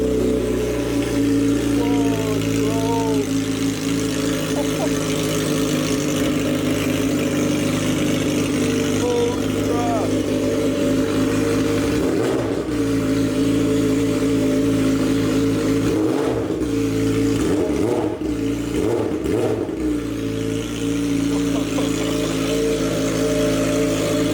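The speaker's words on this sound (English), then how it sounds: "We gotta get a few little revs." Straight-piped motorcycle engine idling loudly and close, with several short throttle blips rising and falling in quick bursts, while people talk nearby.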